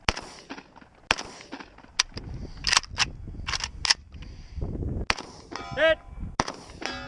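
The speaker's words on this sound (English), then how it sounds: "the same pistol targets are now engaged with shotgun slugs" Shotgun slugs slam into steel pistol targets at a multigun match, sharp clanging impacts ringing out one after another with loud blasts and metallic rings scattered across the stretch.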